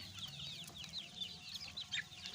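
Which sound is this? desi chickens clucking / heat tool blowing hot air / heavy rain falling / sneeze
desi chickens clucking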